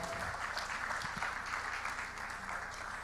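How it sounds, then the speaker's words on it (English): Applause from an audience at a journalism event, steady clapping filling the space for a few seconds with no voices over it. "Please a round of applause for Maokwe."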